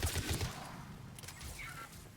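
Mattock rifle from Mass Effect 3 firing a quick burst of a few close, punchy shots at the start, then quieter game ambience with no talk.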